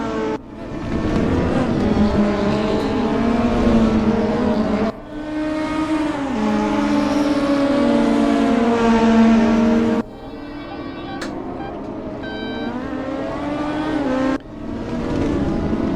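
DTM race cars at Imola scream past in loud, high revving engine runs, with abrupt pitch drops at gear shifts and steady whining harmonics across the track, no talk.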